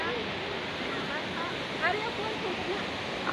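Knife Falls, a waterfall near New Dapitan in Dipolog City, makes a steady, broad rush of falling water. A voice speaks briefly over the roar.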